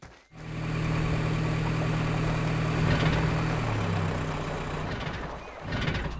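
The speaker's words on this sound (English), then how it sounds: "The Jeep stopped working. I think the engine is overheated." An overheated Jeep engine idling with a steady low rumble and vibration, then sputtering and dropping off near the end as it stalls, close by with no talk.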